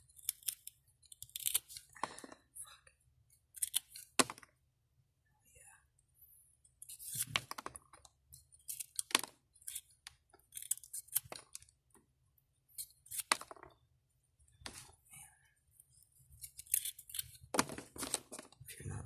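Tire rubber is cut into small pieces with scissors as filler for a punching bag, giving repeated close snips and crunchy clicks in irregular bursts, with brief pauses throughout.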